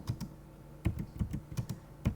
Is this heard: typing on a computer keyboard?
yes